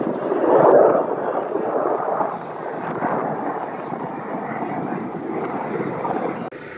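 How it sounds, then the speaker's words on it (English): Military planes fly by near an Air Force Base, a loud broad jet roar that swells early, then holds a steady rumble before cutting off, with people faintly talking at an outdoor truck show. "we're right next to the Air Force Base, so we're seeing all these planes on flyby."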